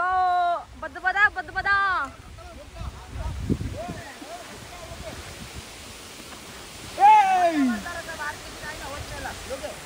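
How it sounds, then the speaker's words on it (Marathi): A waterfall near a village gives off a steady, broad roar in the background, while people talk loudly over it. "हे बघू शकता आपल्याला धबधबा भेटलेला आहे."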